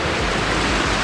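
Waterfall at Plitvice Lakes National Park in Croatia, where lake water spills downstream over moss; a steady, dense rush of falling water fills the whole moment without any voices.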